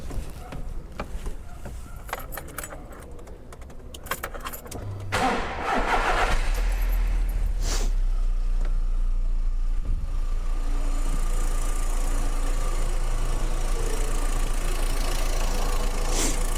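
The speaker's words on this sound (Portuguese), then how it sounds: "Agora eu vou dar partida no carro para a gente enxergar esse sinal" A car engine cranks and catches, then settles into a steady idle that holds to the end, with some workshop noise at the start while technicians set up to check the ignition signal.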